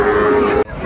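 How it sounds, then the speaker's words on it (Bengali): Young Sahiwal bull calves mooing at a cattle sale, one loud, steady low call lasting most of the moment before breaking off, with a busy background of other animals. "দর্শক দেখছিলাম এখানে ছোট ছোট ষাঁড় বাচ্চা"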